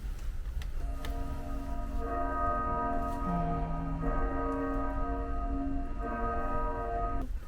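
A melodic bell chime from the World Bells display inside the Sapporo Clock Tower plays a sustained, ringing sequence of tones over steady background hiss, close and clear.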